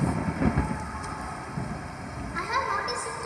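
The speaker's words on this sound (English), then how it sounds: "The rain hasn't stopped for 3 days." A rain sound effect plays through a school annual day stage play, steady hissing rainfall with faint rumbles under it, fairly loud and constant.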